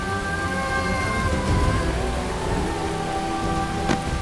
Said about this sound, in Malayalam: ആ സമയത്ത് ഇങ്ങനെ മഴയിൽ നനയുന്നത് ഒട്ടും നല്ലതല്ല